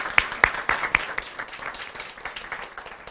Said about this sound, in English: let's give a big round of applause for Alexis as well